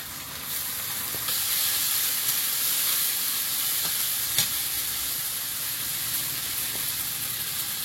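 Green chili and ginger-garlic paste hit hot oil, giving a loud, steady sizzle and hiss close up, with a few faint clicks and no voices.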